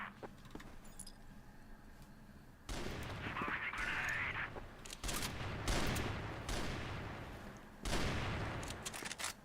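Bursts of gunfire from a CrossFire esports match, loud rattling volleys starting midway and recurring in waves over busy game ambience, with a short electronic chirp near the start.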